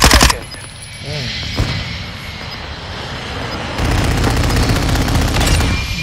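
Loud, rapid bursts of jet gunfire from a VTOL aircraft in Call of Duty: Modern Warfare II, with a sustained heavy fusillade over a droning engine and a short lull in between.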